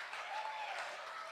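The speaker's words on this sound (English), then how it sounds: "we're going to keep clapping while I read through all of them" A crowd at a closing ceremony keeps up steady, faint applause during a list of sponsors, an even patter of many hands with no pauses.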